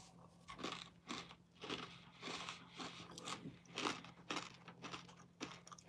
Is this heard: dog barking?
no